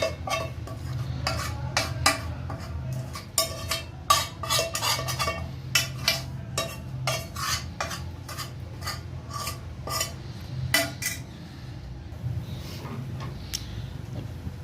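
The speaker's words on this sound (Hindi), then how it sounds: "चूल्हे को ऑन कर लेना है और मीडियम टू लो फ्लेम कर लेना है और इसको मुसलसल चलाते रहना है" A spoon stirs a semolina makhandi halwa mixture in a pot over a medium-low flame, giving repeated scraping clinks and taps against the metal in an uneven rhythm that thin out near the end.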